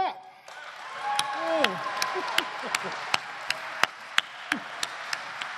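Sparse, uneven hand claps ring out from an audience at the Dearborn Truck Plant in Michigan, a handful of sharp separate smacks spread through the moment, with a voice sounding briefly near the start.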